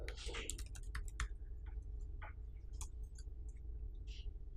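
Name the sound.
typing on a computer keyboard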